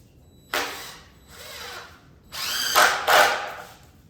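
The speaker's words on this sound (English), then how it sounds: "put the screws in like we did on the back" A power drill drives screws into the wooden frame of a chicken tractor, several whirring bursts of rising and falling motor pitch, close up, the last two longer and louder, with no talking.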